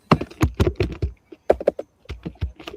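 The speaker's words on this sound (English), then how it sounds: "it's her typing" Someone types quickly on a computer keyboard nearby, sending out bursts of crisp clicks and clacks in an uneven rhythm with brief pauses between them.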